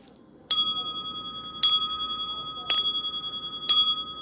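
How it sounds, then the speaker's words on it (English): Bell-like metallic rings struck four times at roughly one-second intervals, each with a bright sustained tone that decays slowly, heard alone and fairly close; a singing bowl being struck. "Singing bowls. There you go."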